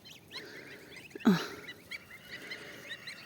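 Geese grazing outdoors after rain let out one short close honk over a soft bed of nibbling, rustling and distant bird calls.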